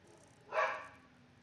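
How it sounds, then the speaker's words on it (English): A single faint, distant dog bark, one short burst rising and fading within half a second against a quiet background. "Alright, my dog's going off on something."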